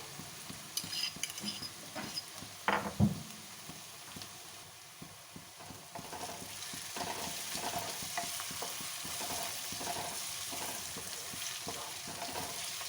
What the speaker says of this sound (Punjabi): ਥੋੜਾ ਅਸੀਂ ਪਿਆਜ਼ ਨੂੰ 2 ਤੋਂ 3 ਮਿੰਟ ਲਈ ਹੋਰ ਪਕਾ ਲਾਂਗੇ ਜਦ ਤੱਕ ਇਹਦਾ ਹਲਕਾ 골ਡਨ ਜਿਹਾ ਕਲਰ ਨਹੀਂ ਜਾਂਦਾ ਉਨੀ ਦੇਰ ਤੱਕ ਅਸੀਂ ਇਹਨੂੰ ਫਰਾਈ ਕਰਾਂਗੇ